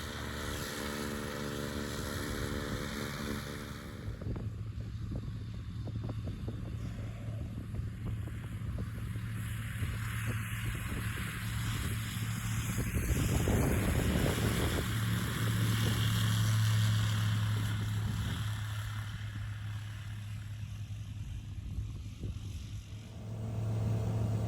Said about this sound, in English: We took off at maximum takeoff weight with 2 adults on board and full tanks.